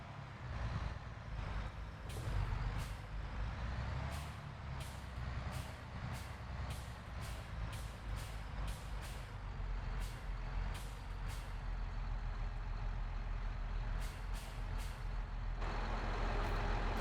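A truck in Farming Simulator 22 reverses toward a trailer to hook up, its engine droning steadily under a long run of evenly spaced reversing beeps, with a hiss of air brakes near the end.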